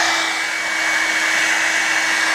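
A Revlon One Step hair dryer and volumizer runs steadily at close range, giving a loud, constant airy roar with a high motor whine and no talking.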